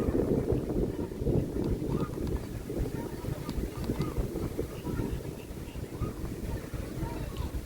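Steady wind gusts batter the microphone at a Miami waterfront where cruise ships pass, a continuous low roar with faint voices underneath.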